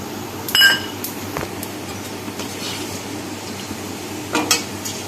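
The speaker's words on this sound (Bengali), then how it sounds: "এই তেলের মধ্যে দিয়ে দেবো এই যে ফোড়ন গোটা গরম মশলা আর গোটা জিরে ফোড়ন দিয়ে দিচ্ছি" Whole garam masala and cumin seeds crackle and sizzle in hot oil, a steady close hiss with a couple of sharp metal clinks near the start and another burst toward the end.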